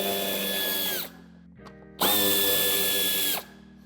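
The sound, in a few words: power tool loosening Torx 25 screws on Mercedes-Benz Vito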